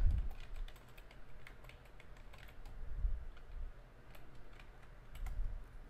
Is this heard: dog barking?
no